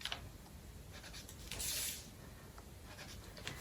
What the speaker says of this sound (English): the next thing we're going to do is to mark out 1 inch allowance here